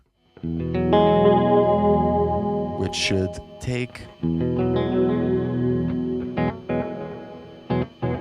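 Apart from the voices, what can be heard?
Phantom Sounds Analog Drift delay and reverb with ducker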